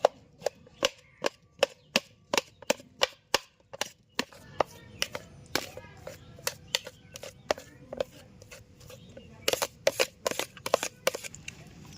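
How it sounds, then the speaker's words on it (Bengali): Boiled potatoes being mashed for samosa filling produce a quick series of sharp, close knocks and thumps from the masher against the pot, some rhythmic, some clustered, with no talk. "এবার সিদ্ধ আলুটা ভালো করে ম্যাশ করে নেব"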